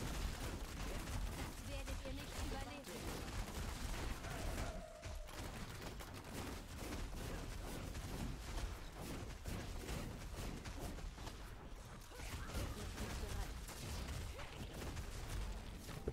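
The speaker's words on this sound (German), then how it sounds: "Hier sollte man nicht in Explosionen stehen." Video game explosions and gunfire crackle in a dense, continuous barrage, loud and sustained with overlapping bursts and booms throughout.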